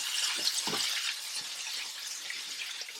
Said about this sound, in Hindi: तो इसको यहाँ पे फ्राई हो जाने देंगे, चिकन आपके अंदर से टेंडर हो जाए अच्छे से